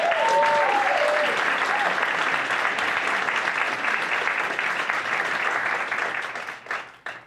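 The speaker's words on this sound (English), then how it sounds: "Please give another round of applause for Jordan" A theater audience at a Tucson High class of 2024 storytelling show claps steadily and loudly for a storyteller, the applause holding for several seconds before tapering off at the end, with a brief voice at the start.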